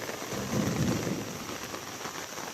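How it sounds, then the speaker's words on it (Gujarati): Heavy rain lashing down in a village with a low rumble of thunder swelling early on, the dense downpour hiss continuing steadily around it without any talk. "અત્યારે જોરદાર વરસાદ ચાલુ થઈ ગયો છે"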